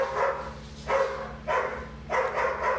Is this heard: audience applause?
no